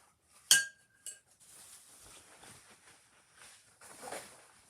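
A metal whisk and two spoons clink together in a home kitchen as cookie baking gets under way: one sharp bright clink, then a smaller tap, followed by soft rattling and handling noise nearby.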